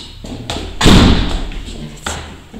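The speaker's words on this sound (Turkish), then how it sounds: "Kapıyı mı kapatacaksın?" A house door is pushed shut with one solid, close thud, followed by lighter knocks and taps. A few quiet voices are heard around it.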